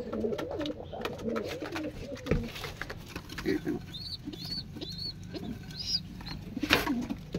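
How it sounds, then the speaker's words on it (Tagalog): Pigeons coo in short, soft repeated phrases around a feeding spot, layered with rustling, pattering and shuffling nearby, with faint bird calls higher up and no clear speech. "ito yung mga update sa mga kalapati natin"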